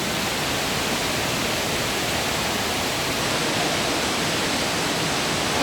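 A large indoor waterfall in the Opryland Hotel's Cascades atrium pours as a steady, dense rush of falling water, heard from an upper floor, constant and unbroken throughout with no voices.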